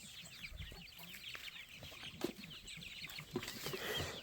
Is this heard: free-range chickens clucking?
yes